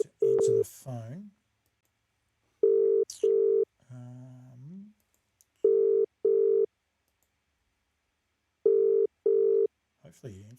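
An outgoing telephone call rings out in repeated paired ring tones, three double rings spaced apart, clear and steady, with a few brief bits of talk and other sounds in between.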